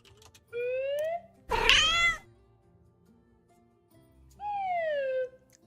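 Two clear, drawn-out cat meows used as a stream alert sound effect, the first about a second long and the second after a pause, with a brief louder noisy burst between them.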